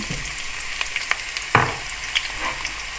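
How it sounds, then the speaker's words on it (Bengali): Chopped onions fry in about three tablespoons of hot oil in a pan, a dense continuous sizzle with scattered pops and one louder stirring scrape near the middle. "পেঁয়াজ কুচিটাকে আমি একটু সোনালি করে ভেজে নেব"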